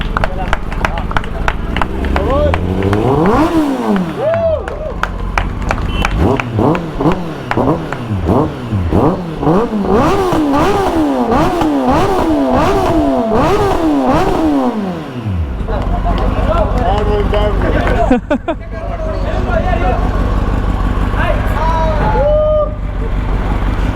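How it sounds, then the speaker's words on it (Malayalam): A motorcycle fitted with an Akrapovic DCAT exhaust revs loudly and close by, its throttle blipped in a quick series of rising and falling bursts before it settles back to a steady idle. "ഇതിൽ ആക്രപോവിക് DCAT എക്സോസ്റ്റ് വെച്ചിട്ടുണ്ട്."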